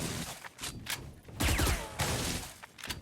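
Rapid gunfire in Valorant, with sharp close shots in quick bursts and brief gaps, played at moderate volume with no talking.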